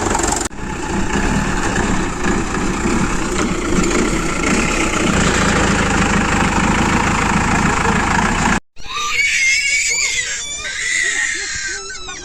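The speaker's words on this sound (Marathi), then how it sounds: "मग मी इकडे ट्रॅक्टर लावत होतो, टेम्पो ट्रॅक्टर सारे एका लाईनीमध्ये लावत होतो." Tractors idle at a brick kiln while being parked in a line, giving a loud, steady engine rumble with voices over it before an abrupt cut to a quieter, different scene.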